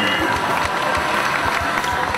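An audience applauds at a cycling-themed outdoor fashion event in a park in Romania, giving steady, close, dense clapping that fills the short stretch without pause.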